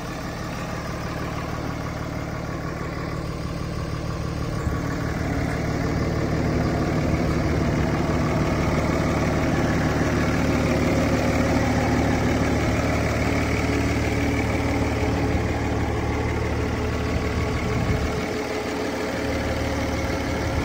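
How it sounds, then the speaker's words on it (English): A 2005 Dodge Cummins diesel dually pickup truck idles with a steady, loud low rumble and drone that holds evenly throughout, with no talking over it. "Really nice running truck."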